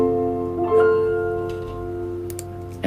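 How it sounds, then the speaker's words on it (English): Short piano outro for a podcast, a few sustained tonal notes ringing softly with gentle decay, fairly quiet and alone with no talking. "at the very end I have this little bit of piano music at the end"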